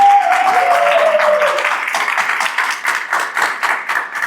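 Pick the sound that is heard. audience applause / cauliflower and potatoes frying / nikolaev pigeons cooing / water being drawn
audience applause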